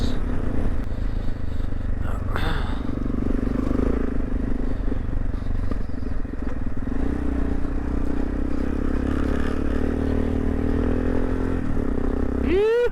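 Off-road motorcycle ridden along a muddy track in the Netherlands, its engine droning steadily and close throughout, with clatter and scraping from the rough ground and a brief rise in revs near the end.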